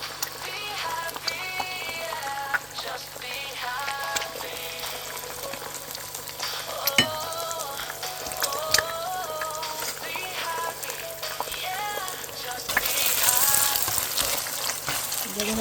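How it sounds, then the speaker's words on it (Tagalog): Scrambled egg sizzles in hot cooking oil in a pan, a steady crackling fry with scattered pops and a brief louder burst of sizzle near the end. "So ngayon maglagay tayo ng mantika para sa ating scrambled egg."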